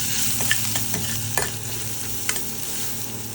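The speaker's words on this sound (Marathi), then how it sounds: "अशी फोडणी देते।" Mustard and cumin seeds, green chillies and half a teaspoon of turmeric sizzle steadily in hot oil for a kadhi pakoda tempering, with a few soft clicks of stirring and no voices.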